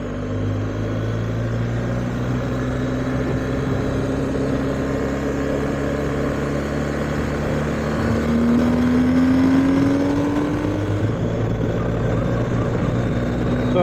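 BMW R1250GS motorcycle on the road, a steady engine drone with wind roar from a helmet-mounted mic, pitch rising briefly as the rider accelerates.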